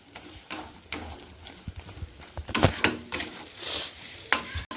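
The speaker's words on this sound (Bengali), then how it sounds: "এখানে আমি স্বাদ মতো চিনি দিয়ে দিলাম ভালো করে আমি কষে নিচ্ছি" A lentil and soybean mixture with sugar being stir-fried in a pan, with repeated clattering knocks and scrapes of a spatula against the pan over a low sizzle.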